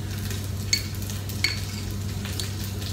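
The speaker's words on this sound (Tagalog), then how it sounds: "So, halu-haluin lang natin siya." Eggplant and bitter gourd being stirred in a frying pan, a steady sizzle with a utensil scraping and clinking against the pan twice, close and continuous with no talking.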